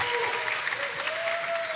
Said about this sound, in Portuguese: Queria que vocês recebessem com muitas palmas, Levi e Bruna!